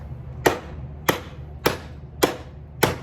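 Western carbon Szco Bowie knife chopping into wood: five sharp, evenly spaced impacts about half a second apart, each a crisp woody thwack, close and clear over a quiet background.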